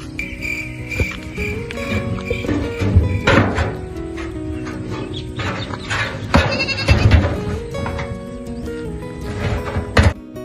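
Goats bleat repeatedly, loud and close, in several harsh overlapping calls, with rustling and movement between them on the way to a livestock market.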